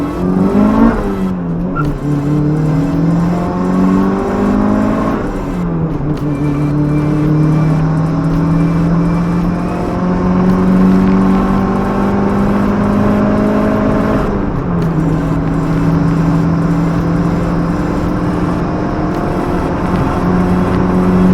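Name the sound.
turbo Honda City Type Z engine revving on a dyno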